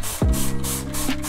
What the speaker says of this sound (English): you're going to take a spray bottle